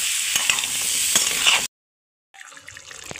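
Ridge gourd and sweet potato frying in oil in a pan for a Bengali jhinge posto, a steady bright sizzle with stirring clinks, cutting out to silence before a quieter, crackling sizzle resumes.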